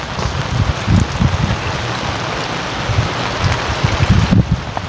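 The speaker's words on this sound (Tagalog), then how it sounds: "hindi natitila ang ulan mga tol" Steady rain pours down outdoors by the water while fishing, a continuous dense hiss of drops hitting surfaces with soft low patters throughout, no voices.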